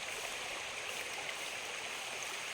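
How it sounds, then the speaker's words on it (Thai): Steady rushing roar of Huai To waterfall and its flowing stream in Thailand, a broad continuous wash of water heard alone with no talk. "นู่นน้ำตกเห็นไกลๆท่านผู้ชม"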